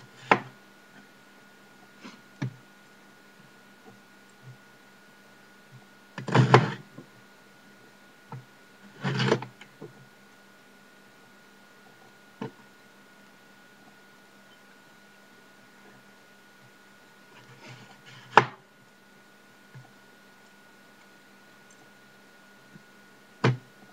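A knife cuts a leek on a bench top, giving a few scattered chops and taps, some in short clustered bursts, others single and sharp, over quiet room background.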